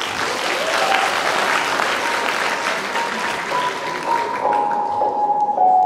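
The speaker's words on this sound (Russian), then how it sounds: "Поехали под ваши громкие аплодисменты." Loud, steady applause from an event audience at a university hit-parade show, sustained throughout with dense clapping and faint crowd murmur, a tonal note rising near the end.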